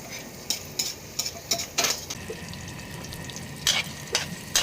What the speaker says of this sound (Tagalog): Siyempre, gisa-gisa muna tayo mga Father Earth